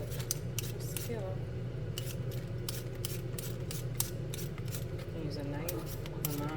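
Potatoes peeled with a potato peeler, a steady run of rapid scraping strokes, close and rhythmic, over a low kitchen hum while someone talks.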